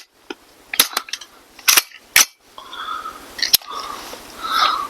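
A BRN-180 rifle fires several sharp, close shots spaced irregularly, each a loud crack with a quick decay, followed by quieter mechanical handling noises and faint background sounds.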